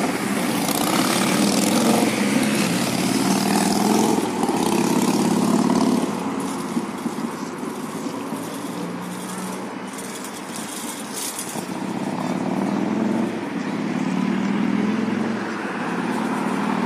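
Continuous low rumble of engines and heavy machinery at a construction site near a highway fork in north Moscow, steady and fairly loud throughout with no talk.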